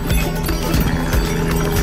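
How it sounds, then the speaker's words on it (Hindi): Horses on the mountain trail from Sonprayag to Kedarnath clip-clop along at a walk, the hoofbeats fairly close and loud over a busy outdoor background, with no talk. "घोड़े भी उधर से जा रहे हैं, आ रहे हैं, ऊपर जा रहे हैं, नीचे जा रहे हैं"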